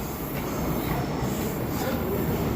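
A Korean metropolitan subway train runs loudly and steadily, with a dense roar of wheels on rails and a faint high squeal throughout.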